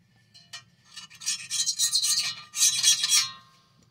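Old foam surround is scraped off the basket edge of a Boston Acoustics A-120 woofer, heard as close, soft rasping strokes in uneven bursts over a low background hum.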